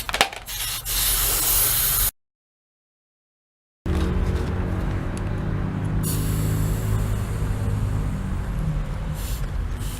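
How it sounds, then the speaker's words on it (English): Air escapes from a scooter tire valve pressed in with a wrench, a close, continuous hiss that runs for two seconds, breaks off into a short silence, then resumes steadily to the end. "Use a wrench to press the valve in so that the air can be released easier."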